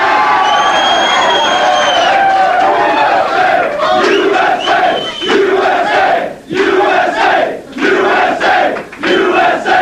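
A large crowd at a Donald Trump political rally roars and chants in loud rhythmic waves, shouts and whoops rising together and breaking off in brief pauses, close and dominant.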